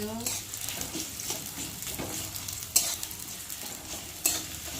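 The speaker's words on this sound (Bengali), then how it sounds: "পেঁয়াজ লঙ্কাটা ভালো করে ভেজে নেব" Chopped onion and green chili sizzle and fry in a hot pan, a steady crackling hiss broken by scraping stirs and a couple of sharp utensil knocks against the pan.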